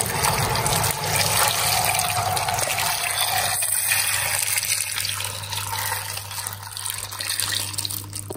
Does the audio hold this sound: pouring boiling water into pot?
yes